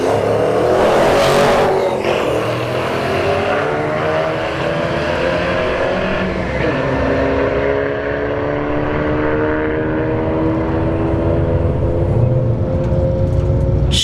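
A Golf R and a Chevy II Nova launch down a drag strip side by side, loud engines roaring and revving as they pull away with rising and falling tones that fade toward the far end of the track.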